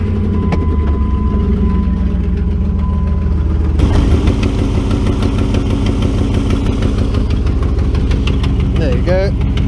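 A car engine idles loudly with a rough, uneven exhaust rumble and rapid low pulsing, steady throughout, with a brief change partway through; the exhaust is missing from halfway along, just behind the catalytic converter.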